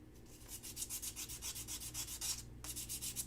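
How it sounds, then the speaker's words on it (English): Sandpaper glued to a wooden tongue depressor scrapes back and forth in quick, even rhythmic strokes, close and steady, with a brief pause near the end before the rubbing resumes. "I love my sandpaper on the tongue depressor."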